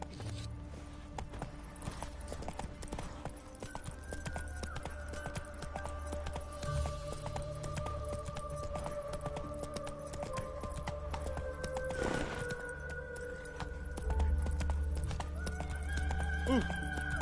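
The horse Roach clip-clops and gallops in The Witcher 3 video game, with repeated hoofbeats, a whinny and game music and effects, at moderate loudness throughout.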